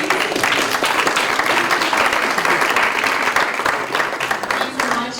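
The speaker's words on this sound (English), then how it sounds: "Some round of applause, please." An audience applauds at a live-streamed event, a sustained dense roar of clapping from many hands, fairly loud and even, with some crowd murmur underneath.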